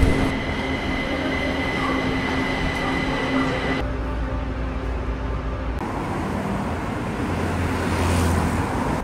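Steady rumble of a train in motion in Kaohsiung, Taiwan, with a constant low drone and a brief shift in tone midway as the carriage rolls along.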